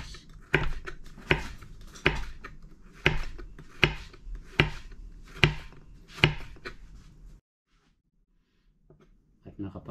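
Bitter gourd (ampalaya) is sliced thinly with a knife on a board, about ten sharp evenly spaced chops close by, then a pause before another cut begins.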